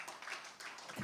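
Audience applause at a celebration event for a financial company chairman, a short burst of dense, moderately faint clapping with even texture throughout.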